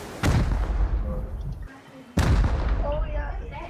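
Two loud, sharp rocket launcher blasts go off during a Rust base raid, each followed by a decaying boom. Players talk over the fire.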